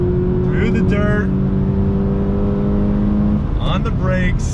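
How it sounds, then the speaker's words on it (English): A 2020 Toyota 86 Hakone Edition braking and downshifting: a steady engine drone with rising and falling tones as it revs through gears, heard from inside under a voice. "on the brakes, downshift, very nice and smooth."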